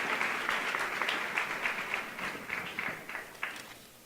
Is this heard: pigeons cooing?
no